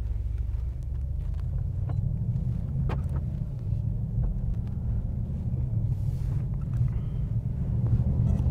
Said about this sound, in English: until you crank up the exhaust note, put it into sport, which obviously we'll do. And let's start driving.